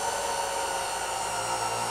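A kitchen blender running on its liquefy setting gives a steady, loud motorized whir with a high-pitched whine, constant throughout with no talking.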